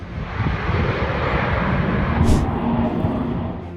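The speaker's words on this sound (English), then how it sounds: "You were watching a huge plane that flew over twice over Formby" An RAF Atlas A400M military transport plane passes over Formby on a training sortie, a broad, rumbling roar that stays loud and steady throughout the short stretch.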